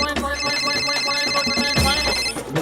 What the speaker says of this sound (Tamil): ஃபோன் அடிக்கிறா.